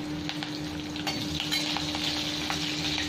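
Onions with green chillies and hing sizzle in hot oil in a pan for a pumpkin curry, a steady close crackle with occasional stirring scrapes and no talking.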